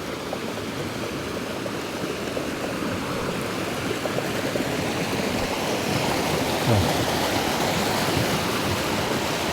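Constant rushing water pours without pause, a dense, even roar of Tat Kom waterfall in Kuchinarai, Kalasin, Thailand, heard up close, no voices.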